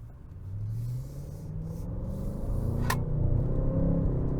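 A 2024 Audi S8 sedan with a V8 engine accelerating hard, a deep rumble building steadily in pitch and loudness over several seconds, heard from inside the car with no talking.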